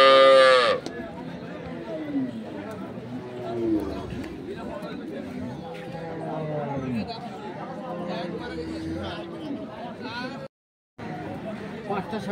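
Dairy cows at a village cattle market in Dinajpur low and moo several times, clearly and up close, amid busy crowd chatter and traders talking throughout.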